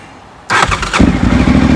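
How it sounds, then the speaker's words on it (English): A Suzuki V-twin superbike engine cranks and fires, catching with a loud burst after a quiet moment and settling into a rough, steady idle close to the microphone. "Here we go, let's give it a start, see what happens."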